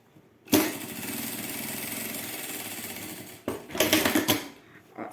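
A sewing machine runs steadily while topstitching a seam on a fabric wallet, one continuous loud stretch of stitching that breaks off and then returns in short uneven bursts, with no talking.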